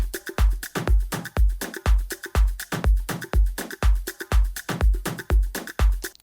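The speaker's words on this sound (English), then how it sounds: "And then if I add the stomp kick" Steady, punchy Afro house drum loop with a heavy low stomp kick landing on each beat beneath bright percussion hits, repeating evenly and played alone.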